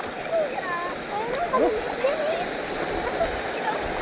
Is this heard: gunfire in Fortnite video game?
no